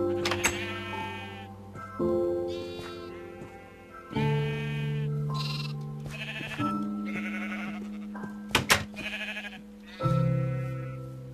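Sheep in the Minecraft video game bleat several times in a row, loud, close and wavering, with short gaps between calls and a few brief clicks from gameplay mixed in.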